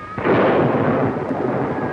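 A single loud thunder crash with lightning breaks suddenly and rolls on as a broad rumble that slowly fades, heard alone.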